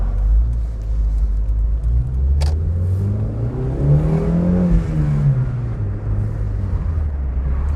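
A Mazda 1000 or 323 engine revs while driving on the road, a gruff, steady rumble that swells and falls through gear changes, close and continuous with no voices.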